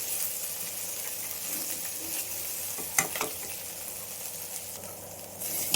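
Chemmagadda (colocasia) pieces dry-roast in a pan with a soft steady sizzle and hiss, broken by a sharp clatter of stirring partway through and another scrape near the end; no talking.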